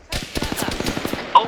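Video game machine gun fire in a tank battle: one rapid burst of about a dozen sharp, evenly spaced shots, fairly close and loud, with a brief tone near the end.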